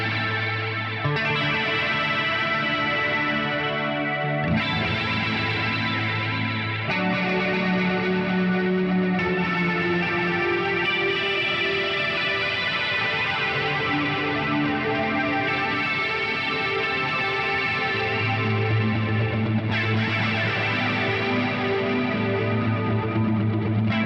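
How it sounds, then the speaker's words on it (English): Shoegaze electric guitar from a 1977 Fender Stratocaster played straight into an Axe FX3 rings out in washy, distorted sustained chords drenched in chorus and echo, a continuous layered wall of sound with chord changes every few seconds and no voices. "I'm playing my 1977 Fender Strat straight into the Axe FX3."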